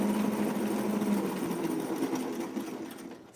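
A sewing machine stitches blouse fabric layered with interfacing for a Simplicity 9287 vintage sweetheart blouse, giving a continuous close humming whirr that fades slightly toward the end.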